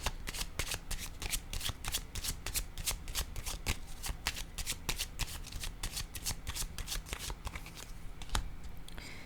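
A deck of cards is shuffled close up, a continuous rapid riffle of crisp flicking clicks that carries on for several seconds before thinning out near the end.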